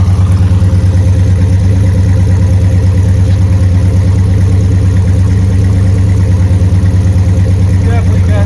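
A 1969 Dodge Super Bee with a 440 Six Pack V8 idles loud and close, its engine running rich with a steady, lumpy low throb that holds even throughout.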